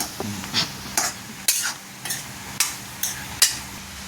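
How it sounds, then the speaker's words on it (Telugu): Paneer butter masala with spices being stirred in a pan: repeated scraping strokes of a spoon against the pan, roughly every half second, close and fairly loud over a faint background simmer, with no voices. "ఇప్పుడైతే దాన్ని అంతా మిక్స్ అయ్యేటట్టు కలుపుకోవాలి."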